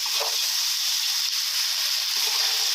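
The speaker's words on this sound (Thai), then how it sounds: "อ่าค่อยๆผัดไปนะครับ ก็เหมือนการผัดวุ้นเส้นทั่วไปแหละครับ" Glass noodles with fermented pork (naem) being stir-fried in a pan give off a steady, even sizzling hiss, close and moderately loud, with faint stirring movements and no talk.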